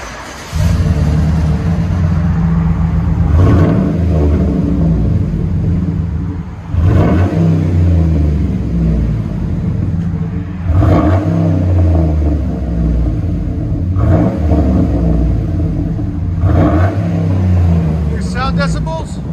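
A 2010 GMC Sierra SLE with a 5.3L V8 and dual exhaust through Cherry Bomb Extreme mufflers rumbles loudly at close range, with several deep revs rising and falling over a steady idle.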